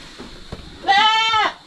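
A goat on a small farm lets out a single loud, wavering bleat lasting about half a second, close by, after a few soft thumps and a quiet rustle.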